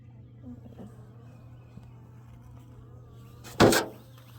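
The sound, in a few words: honeybees buzzing around an opened hive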